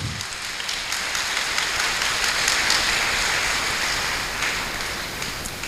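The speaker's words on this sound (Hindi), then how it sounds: "जमीनी बाप के लिए जोरदार तालियां।" An audience at a church program claps loudly, a steady wash of applause lasting about six seconds with no voices over it.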